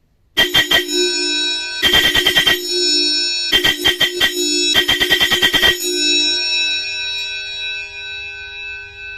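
A bright electronic Vatican bell truck horn rings in several rapid bursts of clustered strikes, then a long fading tone rings out alone.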